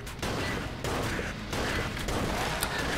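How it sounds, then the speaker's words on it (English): Cannon fire in the video game Enter the Gungeon comes as a dense, rapid barrage of blasts in several bursts, steady and moderately loud with no talk. "That cannon is hitting me, screw you!"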